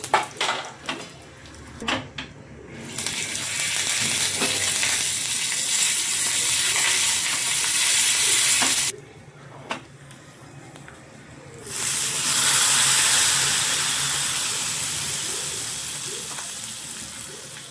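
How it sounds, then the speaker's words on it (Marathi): A tempering of urad dal, red chillies and asafoetida hits hot oil for a chutney, giving loud bursts of hissing sizzle that drop out briefly and return, with a few clatters of a pan and spoon at the start. "मस्त फोडणी बसलेली आहे बघा आपली चटणीला."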